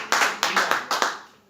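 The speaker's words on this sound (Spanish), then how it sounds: "Denle un fuerte aplauso al Señor, hermano" A small church congregation claps in a quick run of about six sharp, close hand claps that trail off into quiet.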